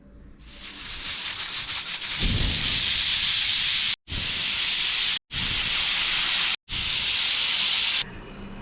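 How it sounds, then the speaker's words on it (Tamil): A pressure cooker on the stove, holding chickpeas with water and rock salt for masala sundal, lets out loud sustained hissing steam that cuts off abruptly several times between long bursts. "இப்போ குக்கர் மூடி போட்டு ஒரு 4 விசில் வரட்டும்."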